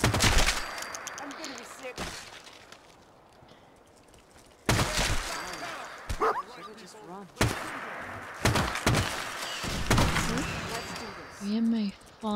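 MA5D rifle firing incendiary rounds in Fallout 4, sharp loud bursts of automatic fire separated by brief pauses, close and punchy, with a voice talking between volleys.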